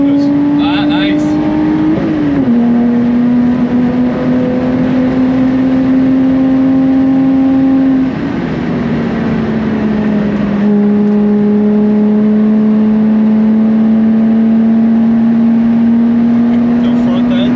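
A Lotus Exige 380 laps the Nürburgring, its engine holding a loud steady in-car drone with brief dips and shifts in pitch, while people talk over it.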